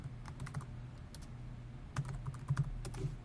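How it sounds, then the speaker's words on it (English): Typing on a computer keyboard while scripting in Unity, a quick run of light key clicks in uneven bursts with brief pauses, close and fairly quiet with no speech. "Why do I feel like my typing's off today?"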